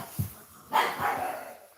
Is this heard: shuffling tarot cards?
no